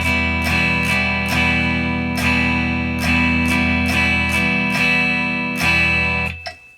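Full guitar chords strummed in a second beginner rhythm pattern, a steady string of downstrokes and quicker strums ringing loudly and continuously, then fading out at the end, played alone.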